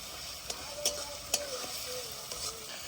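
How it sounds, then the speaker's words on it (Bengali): White cooking oil fries and sizzles in a pan at an outdoor night picnic, with a steady close hiss broken by a few sharp stirring clinks and no speech. "যা আছে ভাজাভাজি সেগুলো করতে হবে। তার জন্য তো নিয়েছি প্রথমে সাদা তেল।"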